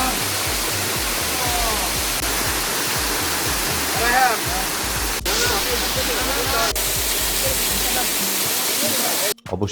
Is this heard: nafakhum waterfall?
yes